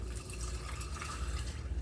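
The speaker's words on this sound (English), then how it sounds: "I'm going to pour in my drink." A vodka and grape juice drink poured over ice in a cup, a soft steady liquid splash running throughout, close and fairly quiet with no talking.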